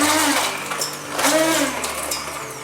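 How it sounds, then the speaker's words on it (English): A blender purees boiled rose hips for jam with a loud, continuous motor whine that dips and rises slightly as the fruit churns, close by and without speech. "Now I'm going to puree them to make sure that there are no nasty hairs."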